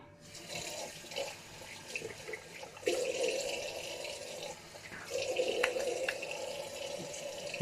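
Tap water runs steadily into a sink while a razor is rinsed during a wet shave with a Parker Variant razor and Proraso green shaving cream. The close hiss and splash swells and shifts as the flow is disturbed.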